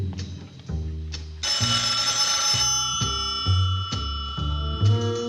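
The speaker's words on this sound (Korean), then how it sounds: "잠시 후 또다시 전화가 걸려옵니다." A telephone rings repeatedly in a steady pattern of bright, pulsing bell tones, close and clear with no talking.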